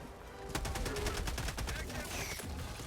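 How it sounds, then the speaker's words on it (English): Rapid automatic gunfire rattles in bursts as a player shoots at a very big bug in the video game Helldivers 2, loud and dense, with faint game effects beneath and no talking. "Let's shoot this very big bug."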